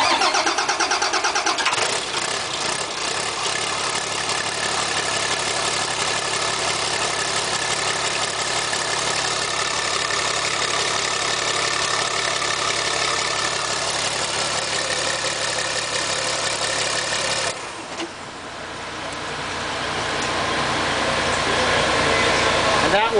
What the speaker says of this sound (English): That was the engine starting for the first time after putting a new cylinder head on it and block.